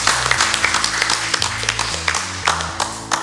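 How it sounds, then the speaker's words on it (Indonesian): Audience clapping at a theology quiz contest between two school teams: steady, lively applause over a low rhythmic backing track, with no voices. "Kita beri tepuk tangan."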